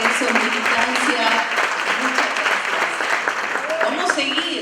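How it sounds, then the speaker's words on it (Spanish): Audience applause at a labor and culture conference, sustained clapping from a crowd with voices and cheers mixed in throughout. "Un fuerte aplauso, realmente, eso es militancia."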